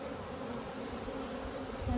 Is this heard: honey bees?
yes